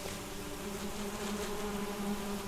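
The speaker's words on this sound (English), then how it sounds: "You should listen to the bees." Bees buzz in the video game Solarpunk, a soft continuous hum with a few overlapping tones held steady at a moderate, distant level.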